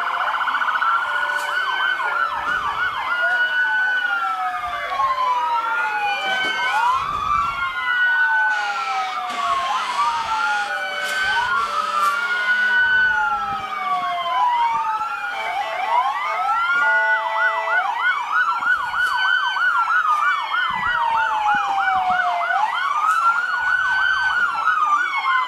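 Sheriff and fire department vehicle sirens in the 2017 Mentone Egg Festival parade: several sirens wail and yelp at once, overlapping and rising and falling continuously at close range, with faint vehicle rumble underneath.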